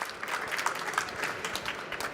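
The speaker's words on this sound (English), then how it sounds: "Can we give a big round of applause for Daniel and the rest of the jury?" Steady applause from an audience at an awards event honouring a jury, moderately distant and even, lasting a couple of seconds.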